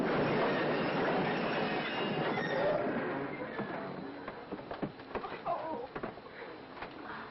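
A train rumbles along the rails with a broad, steady roar that thins out, leaving rhythmic clicks and rattles of the wheels.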